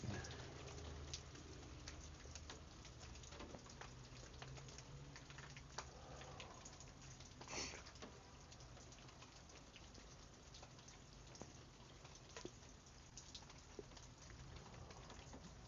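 Rain falls outdoors at night, a faint steady patter with scattered soft drops and taps, distant and unbroken, with no voices.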